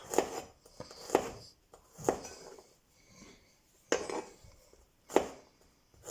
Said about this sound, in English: I'm going to start off by slicing some garlic up